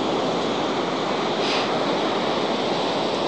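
Ocean waves wash onto the black sand beach at Vik in south Iceland, a loud, steady roar of surf that holds evenly throughout and swells slightly midway, with no talking.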